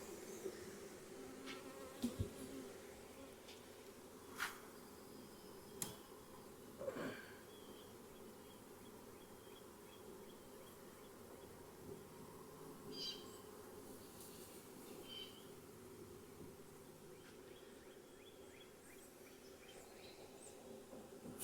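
Soft, continuous buzzing of many honeybees on a hive frame fills the background, with a few sharp knocks and clicks from nearby handling scattered through it.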